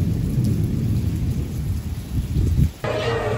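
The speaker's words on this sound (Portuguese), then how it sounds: "Chuva tá chiando." Heavy rain hissing at a football stadium around a Barcelona-BA versus Vitória match, a loud, steady, dense wash of noise that shifts abruptly in tone near the end.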